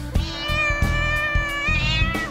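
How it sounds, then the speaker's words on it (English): A kitten meows repeatedly and loudly up close, a string of high, sustained, slightly wavering cries with short breaks between them. "Oh, it's a cute little kitten."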